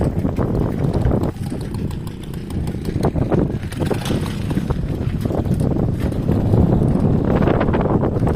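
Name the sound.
wind blowing outdoors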